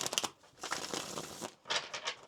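Papery crinkling and riffling bursts, close and moderately loud, with short pauses between shuffles of a tarot card deck.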